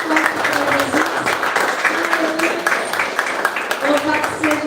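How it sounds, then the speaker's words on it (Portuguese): A church congregation claps together in a rhythmic, steady beat, with sung or spoken voices riding over the clapping throughout. "Você pode aplaudir? Bem forte. Bem forte para Jesus."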